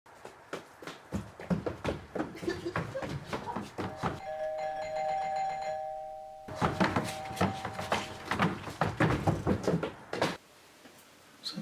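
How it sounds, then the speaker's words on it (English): A doorbell chimes with sustained ringing tones in a room, set between stretches of close knocking and rustling clatter, with no talk over it. "Is that the doorbell?"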